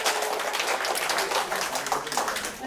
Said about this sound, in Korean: 서로 박수 한번 부탁드리겠습니다